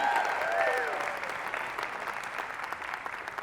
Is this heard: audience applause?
yes